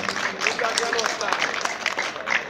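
Brief applause from an audience at a town festival's award ceremony, a dense patter of clapping under a speaker's voice.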